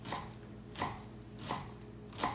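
Knife dicing vegetables on a cutting board while preparing broccoli cheese soup, four evenly spaced close chopping strokes against a soft background, no talking.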